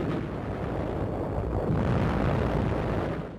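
Artillery shells exploding on Japanese positions during the Battle of Okinawa, a continuous loud rumbling roar of blasts without pause.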